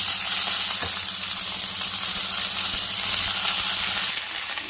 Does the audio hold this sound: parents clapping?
no